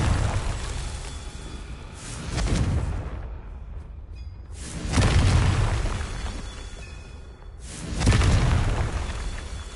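Spell explosions in the Hogwarts Legacy video game arrive as three heavy booming blasts about three seconds apart, each one swelling and then fading away, with no speech over them.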